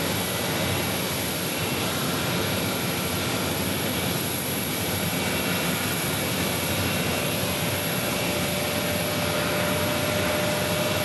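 An airplane passes near Phoenix Sky Harbor Airport, heard from a backyard as a steady, broad roar that fills the whole stretch without letup and with no voices.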